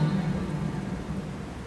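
Steady rain falls throughout as a soft, continuous wash with a low rumble underneath, set in a slowed, reverb-heavy Hindi lofi song, with no voices.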